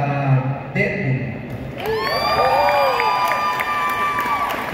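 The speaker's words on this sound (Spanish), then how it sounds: "Primero un aplauso, por ejemplo, para Deadpool" An audience at a live comedy show in Kyoto cheers for Deadpool, starting with brief voices and then rising into loud overlapping shouts and whoops with some clapping beneath, sustained to the end.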